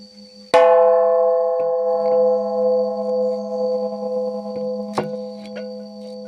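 Inside Pha Lai cave, a temple bell is struck hard and left ringing with a sustained, slowly decaying tone, then hit again more lightly near the end; no one speaks.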